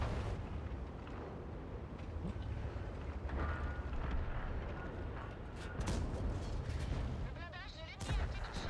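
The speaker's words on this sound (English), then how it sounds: "This is cool, shooting through the ship like that." Gunfire in a video game as shots tear through a ship, dense continuous bursts and booms piling over a rumbling din, with a few sharper cracks near the end.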